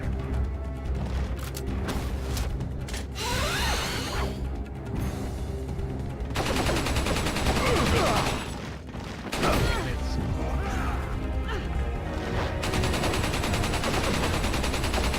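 Gunfire in the video game Resident Evil 4 on PS2: repeated sharp shots and bursts amid crashing effects and game background noise, loud and irregular over several seconds, with occasional speech.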